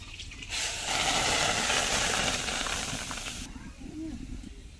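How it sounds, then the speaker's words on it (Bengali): Mango pulp hits a hot wok with a loud, steady sizzling hiss that sets in after half a second and runs about three seconds before easing into softer frying crackle, with faint background voice. "কড়াই গরম হয়ে গেছে, এবার আমের শাঁসটা কড়াইতে আমি ঢেলে দিচ্ছি।"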